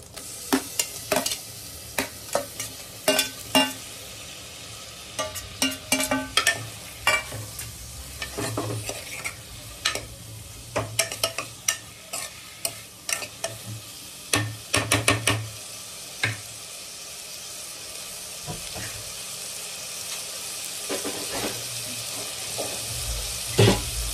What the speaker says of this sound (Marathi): आता मी ह्यामध्ये टोमॅटो आणि बटाटा मिक्स करणार आहे